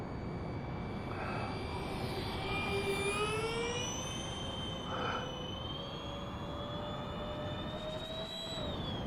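A twin 70mm electric ducted fan foam-board RC plane makes a whooshing flyby, its jet-like whine rising and falling in pitch at a middling distance over steady wind noise.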